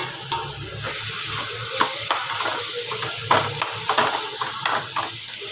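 Spatula stirring and mixing brinjal bharit with fenugreek greens in a hot pan, soft scraping strokes and irregular clanks over a steady low sizzle, close by.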